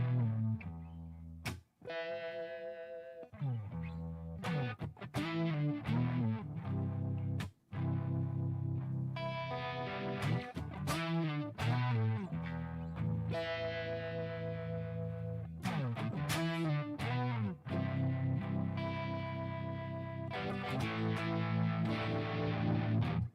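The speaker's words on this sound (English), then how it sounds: "on the chorus is where it has the throb sound" Electric guitar through a Spark amp's chorus effect, with a dense shimmering, throbbing modulation over sustained chords and riffs, played continuously and fairly loud with a few brief pauses between phrases.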